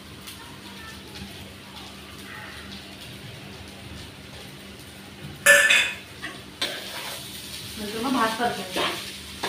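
Egg fried rice with masala and crumbled omelette being stirred in a pan at home, with a faint background hiss and short bursts of clattering and sizzling toward the end, under a man's speech.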